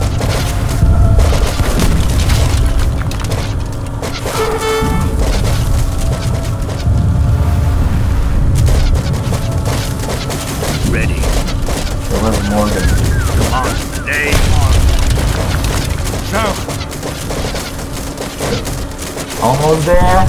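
Mortar fire in Age of Empires III, repeated heavy booms and crackling battle explosions throughout a busy fight, with someone speaking over the din.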